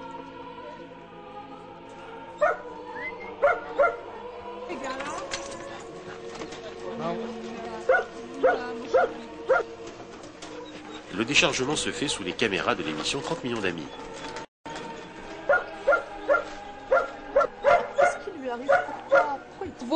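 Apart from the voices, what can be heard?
greyhounds barking after unloading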